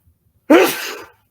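A single sharp sneeze, loud and close, with a breathy tail fading out during a pause in talk.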